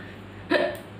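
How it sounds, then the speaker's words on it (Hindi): A single sharp hiccup, heard close and alone against quiet room tone, short and abrupt in the middle of a silent pause. "एक तो हिचकी और दूसरा ये ढकार।"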